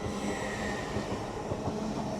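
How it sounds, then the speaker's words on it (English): A Class 801 train passes through Newark Northgate station on the East Coast Main Line, a loud continuous roar of wheels and rushing air close by, with faint rail squeal throughout. "801-207 working a service from Edinburgh Waverley through to London King's Cross"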